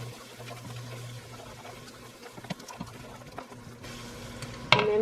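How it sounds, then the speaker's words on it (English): A spoon stirs a sauce of mustard and brown sugar in a bowl, making soft, close, wet scraping and swishing sounds with a few light knocks and a sharper clink near the end, with no talking. "We stir this."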